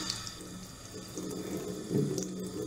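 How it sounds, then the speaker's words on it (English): Tap water runs steadily as makeup brushes are rinsed under it, a close, continuous splashing stream with slight swells in intensity. "you're just going to want to rinse them under the water."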